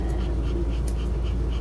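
A Pomeranian pants quickly and rhythmically while being groomed for a short trim, close and moderately loud, with soft breathy puffs repeating over a low steady background hum.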